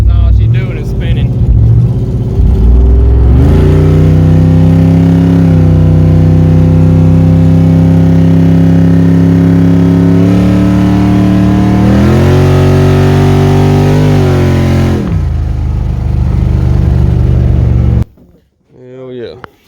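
A truck with a 6.0 engine revs hard and holds high, steady revs while its wheels spin, the pitch rising and falling, loud and close, before it cuts off near the end.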